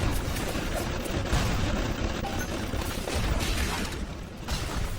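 Sustained rattling gunfire from security turrets in Bioshock Remastered, dense and continuous, a loud mechanical clatter of shots layered over booming low rumble throughout, with no talking.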